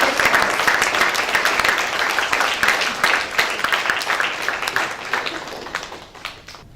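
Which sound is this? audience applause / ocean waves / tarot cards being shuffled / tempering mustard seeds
audience applause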